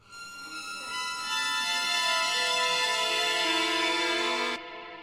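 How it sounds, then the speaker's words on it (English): Orchestral string lines in a Westworld-style score descend, entering one after another and layering into a sustained, swelling chord before cutting off, played alone without talk. "I did these sort of descended strings coming in one by one"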